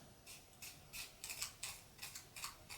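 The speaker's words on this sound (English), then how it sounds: "So I'm just taking my fussy cut scissors" Small fussy-cut craft scissors snipping along paper edges to roughen them, a quiet, close series of quick crisp snips in a steady rhythm.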